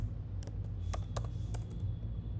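Short bursts of keystrokes on a computer keyboard while typing a php artisan command, a few quick clicky taps spaced irregularly over a low steady room hum, close and fairly quiet with no talking.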